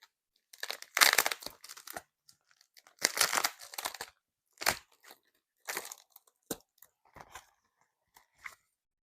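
A blue envelope of VW Beetle parts being torn open and handled up close, a series of crisp paper tearing and crinkling bursts with short pauses between them.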